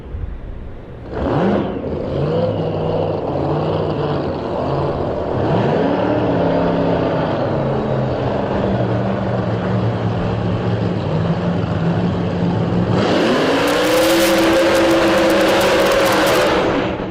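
A race car accelerating down the drag strip at Bradenton Motorsports Park, a loud engine drone shifting pitch through several rises before a sharp, roaring surge of throttle near the end.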